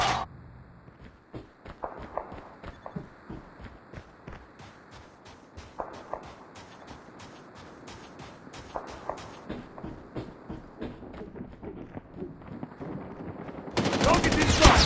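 Bursts of automatic gunfire crackle through Call of Duty multiplayer, mixed with quick running footsteps and shuffling, with a louder burst of fire erupting near the end.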